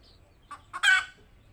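Hens laying eggs inside a sack give a quick run of two or three short clucks, the last the loudest, close by against a quiet background.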